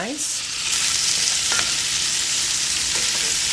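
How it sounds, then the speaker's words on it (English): Chopped onions and four cloves of garlic sizzle and fry in a pan for a squash and zucchini dish, a steady bright hiss close by with a few stirring clicks. "So while the onions are cooking right now, we're gonna let them go and get a little soft."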